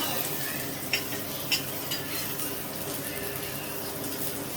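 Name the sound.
frying in butter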